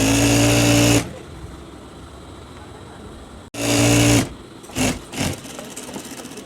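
A sewing machine runs in a loud, steady burst, stops, then runs again in a shorter spell followed by two brief stitching bursts while sewing a shalwar trouser seam, close up with quiet pauses between.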